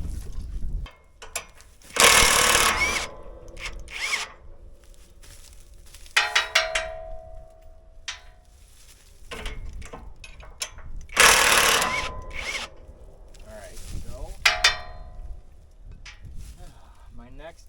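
Hand and power tools work on a corn harvester being taken apart, with loud bursts of an impact wrench, metallic clanks and rattles, and speech in between.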